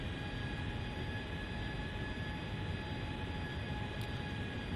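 Boeing 757 engines held at throttle during an approach in FSX flight simulator, a steady, quiet cockpit drone with faint tonal whine that never changes, no voices.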